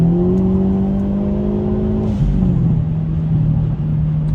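A Hyundai Elantra N fitted with a Boomba Racing exhaust accelerating, a loud close droning engine note that climbs steadily, then drops and settles into a lower sustained hum.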